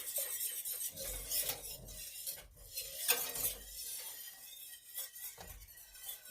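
A spoon scrapes and swirls through thickening homemade gravy in a pan, working around the edges with soft, uneven rasping strokes, quiet and close, with no voices.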